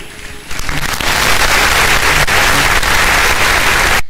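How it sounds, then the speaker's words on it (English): A room full of people at an International Women's Day event breaks into loud, sustained applause, building quickly and holding steady before cutting off. "let's give him a clap"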